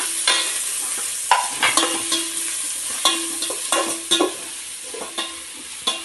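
Shallots, green chili, ginger and garlic sautéing in a pan, with a steady sizzle and repeated scraping stirs of a spoon at an irregular pace, close and clear, no talking.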